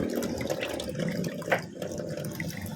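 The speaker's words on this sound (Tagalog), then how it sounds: "Ganito maghugas guys sa meat guys." Beef is rinsed by hand under running water at a kitchen sink, a steady tap flow with splashing and one brief louder slosh, close and continuous, with no talk.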